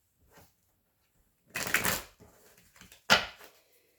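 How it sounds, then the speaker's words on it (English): A deck of tarot cards is shuffled close by in two quick riffling bursts separated by softer handling, with no talking. "One more shuffle."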